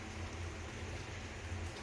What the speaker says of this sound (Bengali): বৃষ্টি শুরু হয়েছে এখনও হচ্ছে ঝিরঝির ঝিরঝির করে